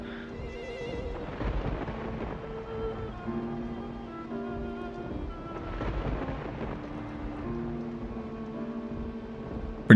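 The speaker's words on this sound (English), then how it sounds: "Pretty bomb-ass thunder effects." Thunder sound effects in the video game Rule of Rose, deep rolling rumbles that swell and fade twice over a sustained musical drone, with no voices.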